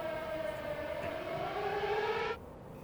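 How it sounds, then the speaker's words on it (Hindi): An air raid siren wails over Tel Aviv, a single sustained rising tone with strong harmonics that cuts off abruptly near the end, leaving faint background noise. "तेल अवीव में बाकायदा हवाई हमलों के सायरन भी बजे हैं"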